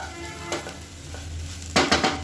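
Food with coriander or curry leaves fries in a pan with a soft steady sizzle, broken by a few scraping stirs and louder clinks from the spoon near the end.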